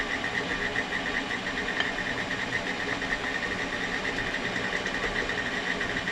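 An electric mixer blends walnut snowball cookie dough, a steady high whirring motor drone with a faint rhythmic rattle, close and continuous, no talking.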